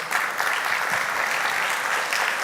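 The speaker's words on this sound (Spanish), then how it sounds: "Dale ese aplauso a Dios." A church congregation at a sermon claps steadily and enthusiastically, a dense wash of applause that holds at an even level throughout.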